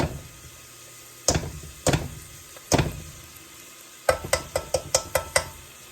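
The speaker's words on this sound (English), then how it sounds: "we are now going to add our 1/4 cup of tomato paste" Tomato paste stirred into softened onions in a hot pan, with a steady low sizzle beneath a few sharp scraping strokes early on, then a quick run of rhythmic clicking stirs near the close.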